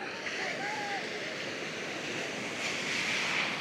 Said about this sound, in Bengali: এক একটা ঢেউ যখন আছড়ে পড়ে